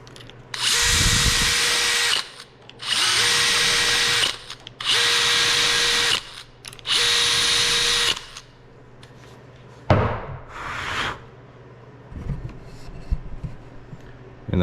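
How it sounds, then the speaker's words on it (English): A power drill with a self-centering bit whirs in four even bursts of about two seconds each, pre-drilling door hinge screw holes close up, followed by a shorter whine and some clattering handling noises. "we need to pre-drill these before we put a screw in it"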